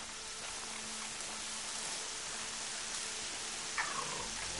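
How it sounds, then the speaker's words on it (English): Steady rain hisses across the landscape in Horizon Zero Dawn, a continuous even wash of falling drops with a faint tonal hum beneath and a brief chirp near the end. "I like the fact that it's raining right now."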